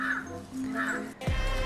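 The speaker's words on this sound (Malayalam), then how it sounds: "കരിയിലക്കിളി രാവിലെ തന്നെ എത്തിയല്ലോ." A jungle babbler calls in the morning with harsh, rasping notes repeated a few times close by, followed by a sudden dull knock at the end.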